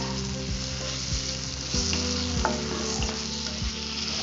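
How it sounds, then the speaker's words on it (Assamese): Onions browning in oil with ginger-garlic paste added fry with a steady, close sizzle, punctuated by occasional scraping stirs, with no talking. "পিঁয়াজখিনি অকণ ব্ৰাউন হোৱাৰ পিছত মই দি দিছোঁ আদা নহৰু পেষ্ট।"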